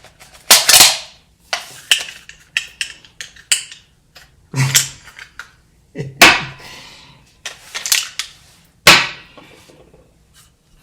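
Sharp gunshots fired at targets, about eight loud cracks at irregular intervals with quieter mechanical clicks and handling noises between them.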